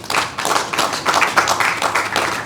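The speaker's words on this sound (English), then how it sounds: "I think that deserves a round of applause." An audience at a policy conference gives a round of applause, dense and close clapping that stays steady and fairly loud from start to finish.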